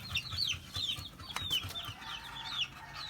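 Chickens cluck and chirp in short squawky bursts near a farmyard enclosure, repeating irregularly over a low background rumble, fairly faint and without talking.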